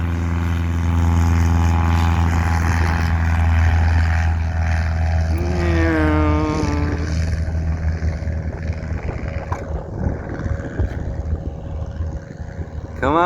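Small two-seater airplane taking off from a runway, its engine a steady, droning propeller tone that holds loud at first and then fades as the aircraft pulls away, with a brief voice heard partway through.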